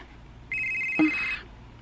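A cellphone rings once: a short, bright electronic trill that starts abruptly, holds for under a second and cuts off, loud against a quiet room.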